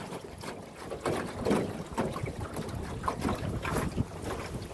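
A jon boat rides over the water, its hull slapping and splashing in uneven bursts under heavy wind rumble on the microphone, loud and close, with no talk.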